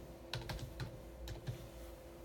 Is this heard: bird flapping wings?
no